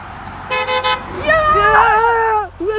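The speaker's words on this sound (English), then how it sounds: "today we're gonna be waving to cars and telling them to honk" A passing car gives a roadside toot of its horn, a short triple beep followed by excited voices cheering over light traffic.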